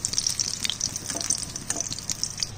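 Bitter gourd fritters (kakrol bora) frying in hot oil, a steady close crackling sizzle with small pops and occasional turning clatter, no talking.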